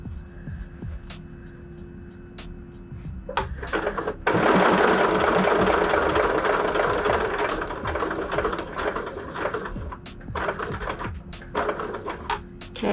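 Sewing machine stitching a tote bag, a steady mechanical whir that swells into a loud continuous run midway and then eases back to softer intermittent stitching, with the motor hum close and alone.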